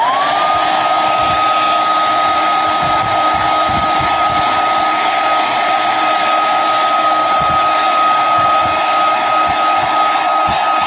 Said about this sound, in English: So I'm going to dry this really quick.